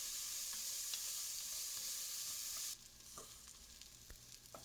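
Chopped onions sizzling and frying in a hot pan for lamb osso buco, a steady loud hiss that drops to a quieter crackle partway through, with occasional stirring clicks.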